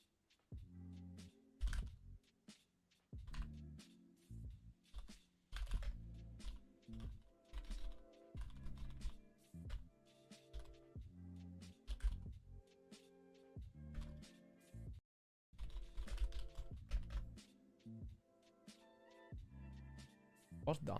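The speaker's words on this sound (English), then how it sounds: "What's Don typing?" Rapid computer keyboard typing clatters in dense, irregular bursts at a live day-trading session in New York, fairly close, with voices talking over and between the keystrokes and a brief pause near the middle.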